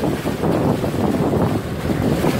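A solar electric boat cruising across a bay off Bali between Sanur and Benoa gives a steady wash of wind and water noise with no break. The whirring rush is loud and close, and nobody speaks.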